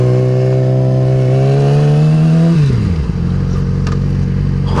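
A supermoto motorcycle's engine drones steadily and rises slightly before dropping abruptly as the rear wheel slides on loose gravel, followed by a lower rough rumble with faint scattered crunches.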